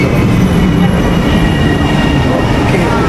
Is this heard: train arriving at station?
yes